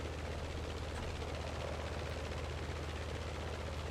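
A steady, droning Focke-Wulf Fw 190 A-8 piston engine in Microsoft Flight Simulator hums with a rhythmic low throb, constant and moderately quiet, with no voices.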